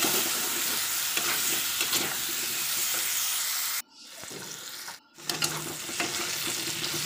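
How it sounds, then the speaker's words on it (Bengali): Potato pieces with salt and turmeric fry in oil in a pan, a loud, steady sizzle with stirring scrapes, briefly dropping out twice before resuming. "আলুতে নুন হলুদ দিয়ে দেবো, দিয়ে আলুটাকে ভালো করে ভেজে নেবো।"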